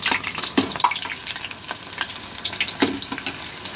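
Batter-coated chillies for mirchi bajji bubble and crackle in hot oil, a close, continuous sizzle with occasional sharper pops and splashes as they are turned.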